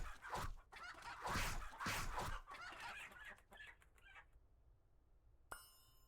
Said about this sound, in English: the chickens around here, which I heard them already